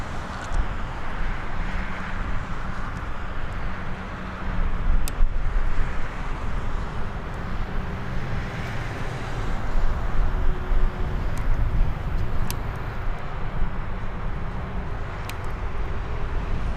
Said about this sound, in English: we do have a Globemaster above us